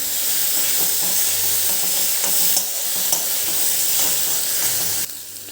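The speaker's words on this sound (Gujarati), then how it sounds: "હવે આને પણ એક કે બે મિનિટ માટે આપણે સાંતળીશું" Crushed tomatoes sauté in hot oil in a pan, giving a continuous dense sizzle and hiss with occasional stirring scrapes, close and loud, then dropping quieter near the end.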